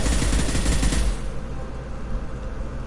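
Rapid bursts of gunfire, loud and close, a dense rattling volley for about a second before trailing off into lingering echo and background noise.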